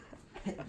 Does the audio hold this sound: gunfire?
no